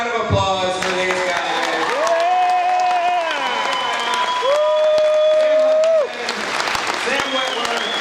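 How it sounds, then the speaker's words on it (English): Convention crowd at a Monster Mania Q&A panel breaks into sustained applause and cheering, steady and loud throughout, with a voice briefly talking and some whistle-like tones over the clapping. "So, big round of applause for these guys."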